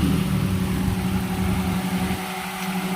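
A car engine idles steadily nearby, a low constant rumbling hum with no revving and no voices.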